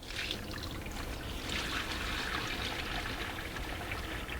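Thin, creamy homemade ricotta poured from a bowl into cheesecloth to drain, a steady close liquid trickle and splash running continuously without pause.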